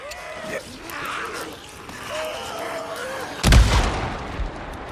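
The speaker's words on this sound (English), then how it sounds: "I'll toss a couple grenades at them too" Grenade explosions in the video game Days Gone Remastered: one loud, sharp blast lands late in the clip with a lingering rumble and a smaller second hit, following quieter game ambience and faint background speech.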